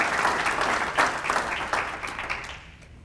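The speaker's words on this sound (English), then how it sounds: "you can clap for that" A crowd at a State of the City address breaks into brief applause, with loud overlapping claps that thin out and fade within a few seconds.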